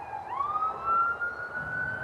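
An ambulance siren wails outdoors in a rising, drawn-out tone that holds steady, fairly loud and nearby, over traffic rumble.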